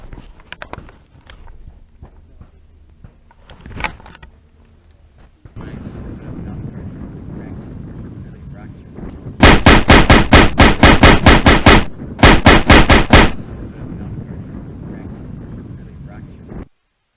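HK G36K E1 rifle firing 5.56 rounds in Rainbow Six Rogue Spear: two loud, close bursts of rapid automatic fire over a windy outdoor ambience, the first longer, the second shorter after a brief pause.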